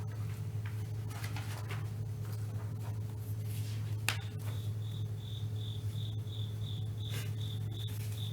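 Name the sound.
cricket chirping inside a meeting room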